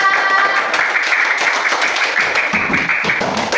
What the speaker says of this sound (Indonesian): Silakan duduk, yang lainnya tepuk tangan.